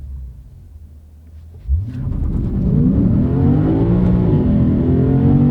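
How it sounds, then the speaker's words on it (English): Lexus IS500 V8 engine fires up and growls as the car accelerates hard in first gear, a loud, rising roar that swells and holds steady after a quiet idle. "You're still in comfort while you have that V8 growling and doing its thing."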